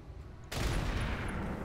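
Sustained weapons fire in the mech combat game Roguetech, a loud dense barrage that erupts suddenly after a quiet moment and rolls on continuously without any talk.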